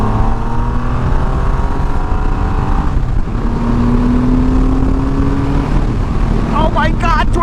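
A Triumph Rocket 3R with its 2500cc engine pulling hard, a deep rumbling exhaust climbing steadily in pitch, dropping briefly, then rising again, heard close from the rider's position over wind rush, ending with a sharp high-revving surge.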